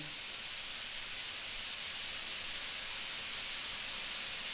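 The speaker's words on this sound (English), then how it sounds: "So you can hear it sizzling." Faint, steady sizzling hiss of food searing on a hot Himalayan salt brick, continuous and soft with no talking.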